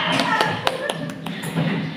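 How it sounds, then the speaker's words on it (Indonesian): Scattered hand claps from an audience at a presentation, a handful of sharp taps spread unevenly over a couple of seconds, mixed with background voices. "Tepuk tangan untuk kita semuanya ya."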